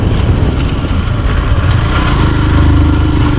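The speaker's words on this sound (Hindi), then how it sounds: "भाई डर तो लगता है, अपना बाइक इतना पावर नहीं निकल पाता।" A Honda Dream Yuga motorcycle climbs a steep road in the Bhichari Hills near Rajkot, Gujarat, its engine droning loud and steady with a low labouring note and light clatter, and no voices.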